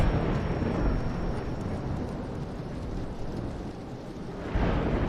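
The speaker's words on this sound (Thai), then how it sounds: "เสียงฟ้าร้อง" A deep, sustained rumble of thunder rolls on throughout, broad and booming, with a fresh surge near the end, in the Roblox game DOORS.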